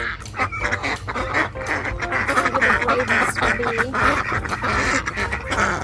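Several ducks quacking loudly and continuously nearby, their calls overlapping in a busy, chattering flurry.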